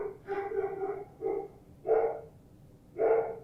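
A dog barks four times at uneven intervals, medium-close and fairly loud, each bark a short muffled woof against a quiet background.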